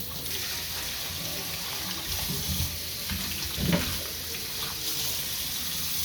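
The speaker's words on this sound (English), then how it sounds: "We're just kind of rinse these off a little bit and put them on our cutting board over here." Cucumbers rinsed under running tap water at a sink, a steady soft splashing stream with a brief louder splash midway, no voices.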